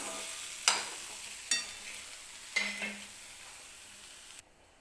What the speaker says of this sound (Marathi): वरून थोडीशी कोथिंबीर टाकते मी आणि भेंडी व्यवस्थित मिक्स करून घेऊन गॅस बंद करून घेते